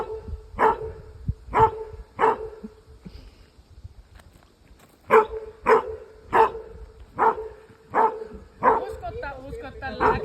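A smooth collie barks in loud, evenly spaced bursts, mostly in pairs and triples, with a short quiet gap between the groups and a few yips at the end. The dog is close and outdoors.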